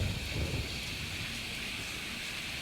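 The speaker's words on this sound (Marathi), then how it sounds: "पाऊस बिऊस आलाय" Steady rain in the video game Dawnlands, a dense even hiss with a low rumbling wash at the start, continuous and fairly loud with no talking.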